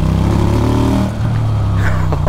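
A QJ Motors SRV 300 motorcycle engine revs loudly and close, a steady droning roar that dips briefly and climbs again, with no talking over it.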